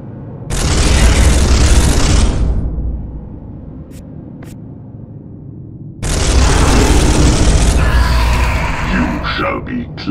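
Space Hulk: Sin of Damnation gunfire comes in two sustained roaring bursts, each a few seconds long and loud and close, with a quieter gap and faint mechanical clicks between them.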